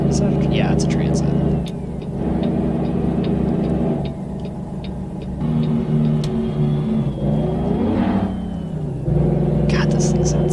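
A truck's engine in a driving video game rumbles and revs loudly, rising and falling in pitch with gear changes, while a person talks over it throughout.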